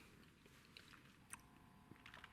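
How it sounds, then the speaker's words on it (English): Watermelon-flavoured gum being chewed close to the mouth, soft moist smacking and faint crunchy bites in an irregular rhythm, quiet and alone. "As I'm chewing it"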